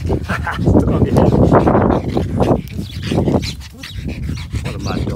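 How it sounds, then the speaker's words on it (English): An excitable dog pants and gives short barks and whimpers close by, the breathy sounds steady and loud throughout with some human voice mixed in. "What a mad dog."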